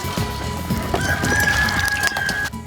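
Chickens cluck in quick bursts while a rooster crows nearby, a drawn-out cry over the busy flock chatter.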